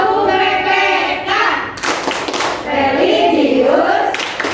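A primary school class claps the Tepuk PPK rhythm chant together, with loud bursts of hand claps mixed with children's voices chanting throughout.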